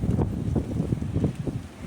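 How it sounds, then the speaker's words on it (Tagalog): Strong wind at Kapurpurawan rock formation buffets the microphone in heavy, uneven low rumbling gusts, loud and continuous. "napakalakas ng hangin"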